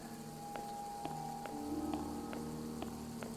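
Rain in the video game The McCarthy Chronicles, a soft steady patter on surfaces with faint periodic drips and a low ambient hum, quiet and alone without voices.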